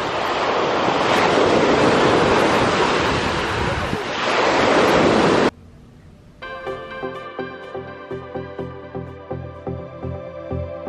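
Steady rushing wash of ocean waves breaking on a beach in Spain, loud and close with wind buffeting the microphone, ending abruptly and giving way to other sounds.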